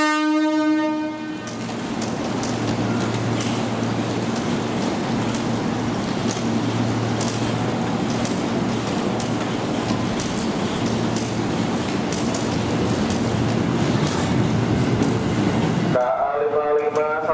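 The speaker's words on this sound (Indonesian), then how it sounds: "Jalur 11 tujuan Pasar Minggu Depok Bogor persiapan berangkat." A KRL commuter train pulls out of a busy station platform, its steady engine rumble and rolling wagons filling the scene, with a horn-like tone at the start and station announcements faintly audible.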